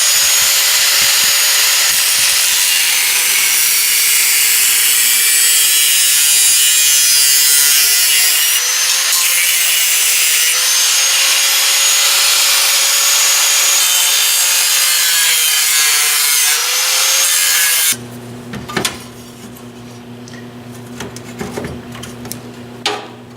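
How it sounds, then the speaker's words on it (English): A power cutting tool saws through a metal support piece on a Land Cruiser overlander build, a loud continuous high whine with wavering pitch for most of the stretch, ending abruptly into quieter shop clatter and knocks. "Alright, so I just cut this little support piece."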